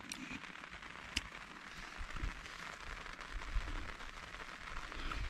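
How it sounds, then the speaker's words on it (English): Steady rain patters on a bivvy shelter at a bicycle campsite beside a disused canal, a soft continuous hiss with occasional closer drop taps and no talk. "it started raining and it could get worse."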